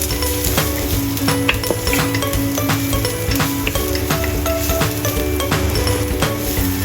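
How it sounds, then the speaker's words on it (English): Chopped ginger stir-fries in a hot pan with a steady, loud sizzle, broken by frequent clinks and scrapes of a utensil against the metal as it is tossed. "Stir-fry chopped ginger until fragrant."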